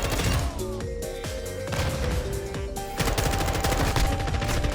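Rapid bursts of automatic rifle fire in the Modern Warfare 2 video game, dense, loud and continuous over a few seconds, mixed with game effects and no clear talk.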